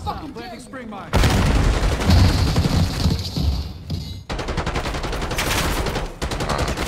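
A loud, sustained barrage of gunfire and impacts in Call of Duty keeps up with barely a pause. It breaks off briefly partway through, then the rattling fire resumes as a player talks over it.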